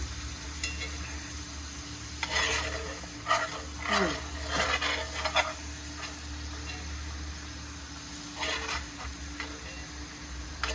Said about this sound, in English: This cast iron skillet. And I actually like for my garlic to get seared like that.